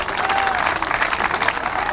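A church congregation applauding in praise during an evangelical service: dense, sustained clapping from a crowd, loud and continuous from start to finish.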